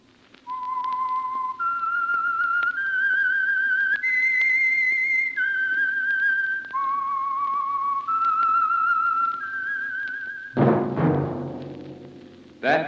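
A lone whistler performs the eerie theme signal of The Whistler, a slow melody of sustained clear notes stepping up and down, followed by an orchestral chord near the end.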